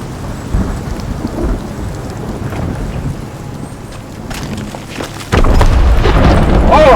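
A thunder and lightning storm in Shadow of the Tomb Raider: steady heavy rain and wind roar close by, broken by rumbling thunder that swells into a loud, sustained crash near the end.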